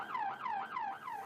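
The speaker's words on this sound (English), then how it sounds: "I hear some sirens now" A police siren wails in a steady, repeating up-and-down sweep, several cycles in a row, sounding moderately distant and heard alone without talk.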